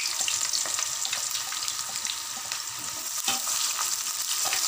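Onions go into hot oil with bay leaves for a spicy beef pulao, crackling in a steady, close, dense sizzle with occasional sharper pops.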